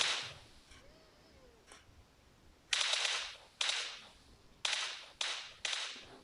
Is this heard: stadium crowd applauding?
no